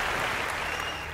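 Brief, fairly faint burst of applause from an audience at an awards ceremony stage event, a smooth wash of clapping lasting about a second.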